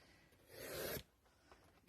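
Designer paper is sliced with a paper trimmer in a single soft, quiet scraping stroke lasting about half a second, heard alone.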